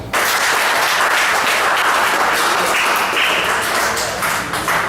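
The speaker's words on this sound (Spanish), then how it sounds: "Vamos a darnos un fuerte aplauso" Sudden burst of close, loud clapping from a small group at a university information technology class session, crisp individual claps blending into steady applause that holds for about five seconds.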